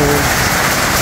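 Rain falling amid cold fog outdoors, a brief burst of continuous close hiss with a faint low rumble beneath.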